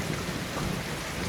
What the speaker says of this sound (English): I guess you can hear the thunder and lightning outside.